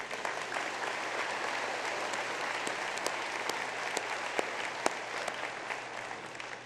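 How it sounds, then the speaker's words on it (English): A university graduate commencement crowd gives a sustained round of applause, a broad even wash of many hands clapping with occasional crisp claps popping out, heard from some distance. "Please give them a round of applause."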